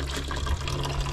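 Water streams from a tap into a container, a steady, faint gushing fill with no voices over it.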